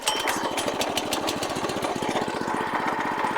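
Champion 22-inch front tine tiller's small gas engine running right after a cold start with choke on, a loud close rapid chugging putter that stays steady throughout.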